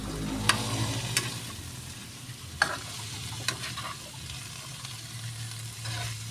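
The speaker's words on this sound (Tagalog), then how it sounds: "Haluin po natin." Stirring a pan of quail eggs with moringa leaves, a steady low sizzle running throughout with a few sharp utensil scrapes and clinks against the pan; no talking.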